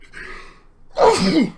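A single loud, close human sneeze bursts out after a brief quiet intake of breath, with no talking around it.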